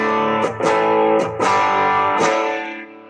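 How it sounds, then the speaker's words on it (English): Distorted electric guitar chords ring out, struck in a few firm strums that sustain with gritty overdrive before fading at the end. "Bro, bring up some distortion."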